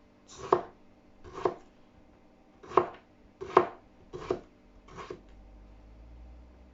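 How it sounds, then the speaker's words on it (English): A knife cuts carrots on a board for Jamaican oxtail, giving six crisp, evenly spaced chops close up in a quiet room. "So I'm just cutting my carrots."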